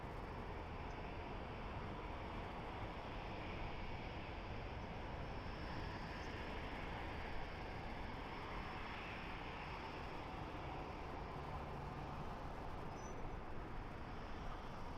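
A jet airliner taking off at Washington Dulles airport, a steady, loud broadband roar holding constant throughout with no breaks or voices.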